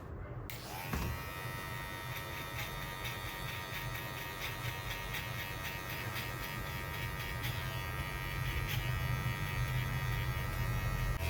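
An electric hair trimmer buzzes continuously while cutting a skin fade haircut, a steady close-up electric hum with harmonic whine that grows slightly louder toward the end, no talking.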